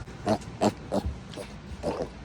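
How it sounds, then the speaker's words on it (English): Five short, low grunts from a pig, spaced about a third of a second apart, fairly close with some quiet background noise. "What you doing, Pig Pig?"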